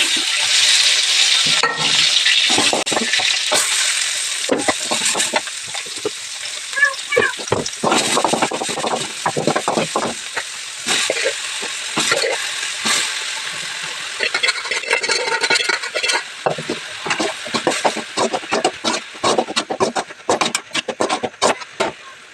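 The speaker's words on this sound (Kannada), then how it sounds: "ಕಟ್ ಮಾಡಿರೋಂಥ ಈರುಳ್ಳಿ ಹಸಿಮೆಣ್ಸಿಕಾಯಿ ಹಾಕ್ಬಿಟ್ಟು ಸ್ವಲ್ಪ ಎಣ್ಣೆನ ಬಿಟ್ಬಿಟ್ಟು ಇವಾಗ ಫ್ರೈ ಮಾಡ್ತೀನಿ" Onion and green chillies fry in a little oil in a pan, a dense sizzle broken by stirring scrapes and clatter, close and fairly loud throughout.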